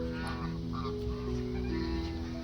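Pet ducks kept at a hotel honk and quack steadily, a dense chorus of overlapping calls close by over a constant background hum, with no speech.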